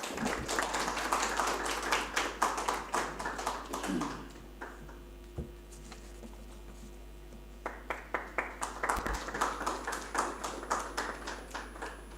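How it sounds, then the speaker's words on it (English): A modest conference audience claps in scattered, fairly faint bursts, fades to near quiet partway through, then picks up with a second round of clapping. "kindly give him a huge round of applause"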